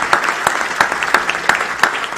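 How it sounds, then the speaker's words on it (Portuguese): An audience claps in a steady rhythmic beat of sharp, evenly spaced strikes at a political launch event for Lula and Alckmin's collaborative platform, with fairly close, distinct claps throughout. "uma salva de palmas em nome do William a todos aqueles que participaram aqui desse processo."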